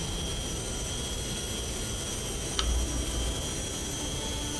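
A jet aircraft taxiing in a flight simulator game, a steady whining engine drone with a constant high tone and low rumble, broken by one brief click.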